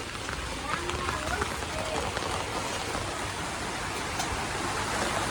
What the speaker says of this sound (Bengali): বৃষ্টি মানে ভালো বৃষ্টি আছে